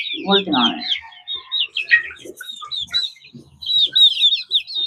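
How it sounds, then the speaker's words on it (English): Chicks peep in quick, high overlapping calls close to the microphone, and lower clucks from chickens come through near the start, with no pauses in the chatter. "I want to put the mic down here so that you can hear the chickies better"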